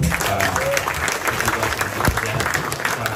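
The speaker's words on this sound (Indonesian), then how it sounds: "Kita beri tepuk tangan buat" Audience at an Indonesian political gathering applauding, a dense steady wash of clapping with crowd noise lasting throughout, fairly loud and close.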